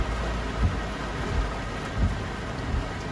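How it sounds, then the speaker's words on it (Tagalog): Heavy rain pours down in a steady, dense roar, with low rumbling gusts swelling now and then beneath it. "Kaya abangan natin mga sobrang lakas ng ulan."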